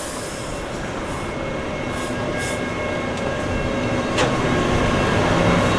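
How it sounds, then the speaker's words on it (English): A Sheffield Supertram tram passing through Hillsborough, a steady rumbling rail drone filling the whole stretch with a brief high wheel squeal near the end, fairly close and continuous. "Like I said, that's another super tram."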